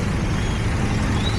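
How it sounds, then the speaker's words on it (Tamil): A roadside recovery truck pulls up to assist a punctured Royal Enfield Himalayan, its heavy engine rumbling low and steady, with a short air-brake hiss near the end. "நம்ம ரெக்கவரி வண்டி வந்துருச்சு."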